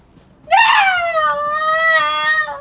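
A child lets out a loud, sustained high-pitched scream lasting about two seconds, angry and wailing over a Fortnite game, close to the microphone.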